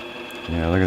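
A metal lathe turned slowly by hand takes a fine six-thou cut, giving a soft scraping hiss that becomes a louder rasping, grinding tone in the second half of the short stretch.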